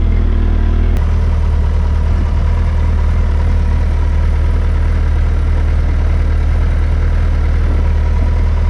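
A 2020 Suzuki Hayabusa motorcycle idling after a cold start, with a steady, loud, low engine drone held throughout and no talking.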